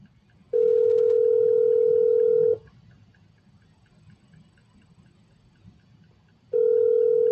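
Telephone line on a call giving a steady, clear dial tone that holds for about two seconds, falls silent over faint background hiss, then starts again near the end.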